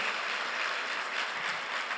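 A church congregation applauding, a steady dense wash of clapping heard from a distance with no pauses.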